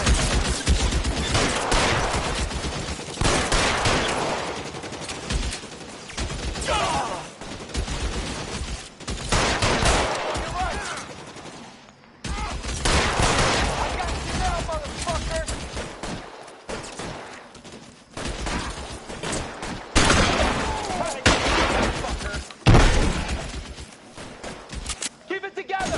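A shootout in LA Noire, with dense, loud bursts of rapid gunfire and scattered single shots going on almost without a break, while voices shout and talk over the firing.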